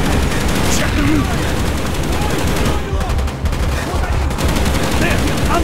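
Rapid gunfire in a Call of Duty Black Ops battle, dense bursts of automatic fire crackling almost nonstop, close and loud, with shouting voices mixed in.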